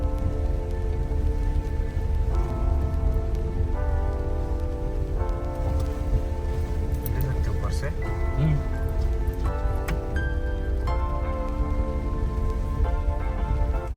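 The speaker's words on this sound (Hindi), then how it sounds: "फिर से बहुत तेज़ बारिश शुरू हो गई है" Heavy rain pours steadily during a flood in Osmanabad, a dense continuous hiss of drops hitting surfaces, with a person talking over it at times.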